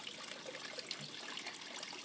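Garden water trickles in a steady, soft stream, faint and continuous, with no voices.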